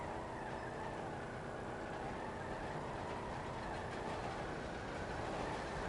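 A train rolls past nearby in a steady, loud rumble, with rail clatter and clickety-clack under a broad roar that holds constant and swells slightly near the end.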